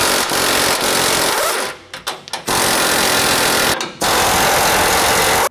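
An impact wrench removes the nuts on a factory track bar bracket with a 21mm socket, loud rapid hammering bursts up close, broken by short pauses and stuttering pulses before running again.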